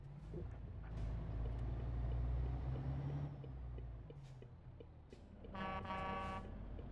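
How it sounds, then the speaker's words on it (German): Truck horn in Euro Truck Simulator 2 sounding near the end as a short, loud, bright tonal blast, over a steady low engine and road drone heard throughout. "die haben ja die Hupe noch mal ein bisschen wieder angepasst"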